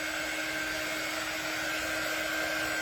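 A hair dryer blows steadily and close up while drying craft pieces for a snowman door hanger. Its even, continuous whir has no pauses and no speech.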